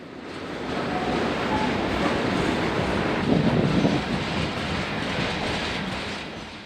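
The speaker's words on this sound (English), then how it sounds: "The train is passing another job GA6 with an auto train off the Union Pacific." An Indiana Harbor Belt freight train rolls past in Northwest Indiana beside another job carrying an auto train off the Union Pacific, a steady close rumble with faint clickety-clack of cars, continuous and unbroken throughout.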